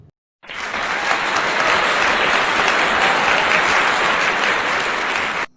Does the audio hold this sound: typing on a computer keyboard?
no